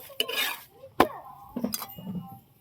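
Metal utensils clink and scrape against a pan while chapati roasts, a few sharp, close taps and scrapes spread across a short quiet stretch.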